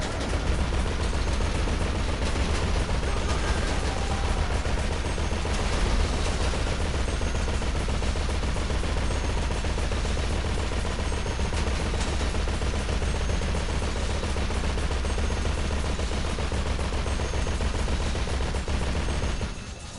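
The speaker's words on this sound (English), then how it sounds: "They're gonna just shoot this guy." Sustained dense gunfire in a GTA video game, rapid automatic bursts rattling continuously at high volume for the whole stretch without speech.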